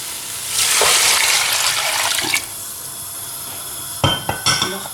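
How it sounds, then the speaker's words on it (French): Water pours into a pot holding vegetable peelings, a carcass, onion and parsley for broth: a loud hissing splash lasting about two seconds, followed by a few sharp clinks of pot and utensils. "Je mets un peu d'eau."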